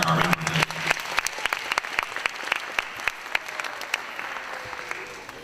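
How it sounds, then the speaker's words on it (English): Applause rises at a school award ceremony gala, with crisp distinct claps from a modest crowd that thin out and fade over several seconds. "So again, a round of applause for Dr. Irene Norday."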